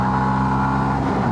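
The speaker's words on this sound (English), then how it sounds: "this would be too high a revving already" A 125 cc motorcycle engine holding a loud, steady high rev, close up with a continuous droning whine and no talk.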